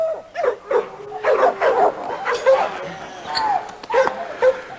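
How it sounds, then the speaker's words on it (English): A fine little female dog in a yard gives a series of quick, sharp yips and barks close by, with short gaps between bursts, and voices are heard along with the barking. "She sure is a fine little dog."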